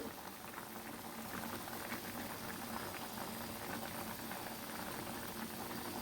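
Small fish iguru curry bubbling away in its tamarind broth, a steady, continuous rolling simmer heard up close with no voices.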